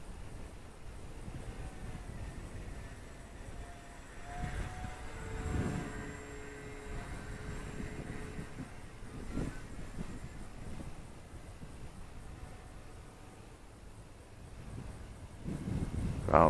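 An 1100mm-wingspan Fun Cub EPO foam radio-controlled model airplane with a light motor flies at a distance, its faint electric drone rising and fading under steady wind noise.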